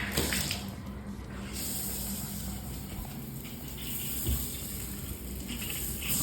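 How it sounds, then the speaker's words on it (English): Water runs steadily from a newly installed shower head, a continuous close hiss and splash with no talking. "Test the shower head and make sure there are no leaks."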